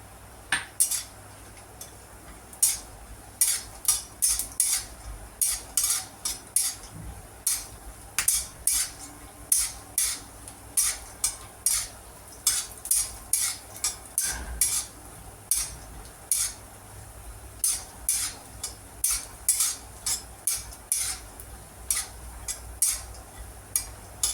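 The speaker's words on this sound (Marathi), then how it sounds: "मी थोडेसे बदाम आणि काजू या तुपात भाजून घेते" A utensil clinks and scrapes against a pan in a quick, fairly regular rhythm as almonds and cashews roast in ghee, with a soft background hiss and no speech.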